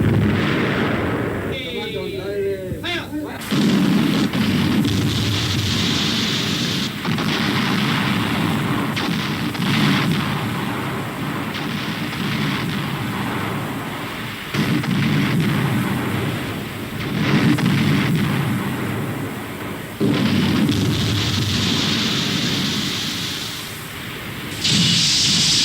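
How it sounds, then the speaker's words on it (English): Naval artillery fires from a Royal Navy warship in Arctic waters: heavy booming blasts recur every few seconds amid roaring wind and sea noise, loud and close throughout. "Artillerie klar zum Feuern. Anton, Feuer! Feuer!"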